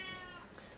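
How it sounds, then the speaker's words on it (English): A small kitten cries in a single faint, drawn-out meow that fades within a second, heard alone against a soft background hiss. "hear a little kitty crying."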